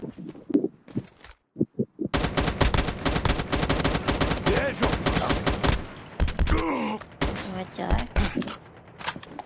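Gunfire in a video game, with sniper fire mentioned: a few isolated shots first, then a dense, sustained barrage of close rapid shots with fainter groans and footsteps mixed in.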